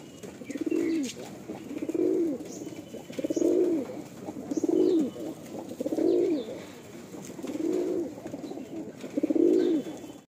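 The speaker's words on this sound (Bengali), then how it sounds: "আসুন পেয়ারটা ছেড়ে দেখি।" A pair of Madrasi pigeons coo close by in about seven evenly spaced, rolling, throaty phrases, steady and alone with no talk.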